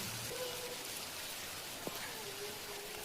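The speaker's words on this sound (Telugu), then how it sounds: "ఫ్రెండ్స్ వర్షం అయితే వస్తుంది మా అమ్మ ఇంటి దగ్గర" Rain falling near a family home, a soft steady patter through the whole stretch with a brief sharp drip or tap partway, quiet and without speech.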